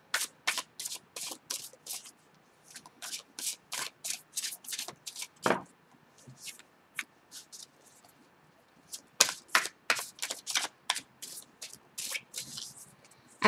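Steady run of quick, crisp tarot-card shuffling bursts, careful non-riffle shuffling, many short flicks in rhythmic clusters with a brief pause midway, close and fairly quiet, no voices.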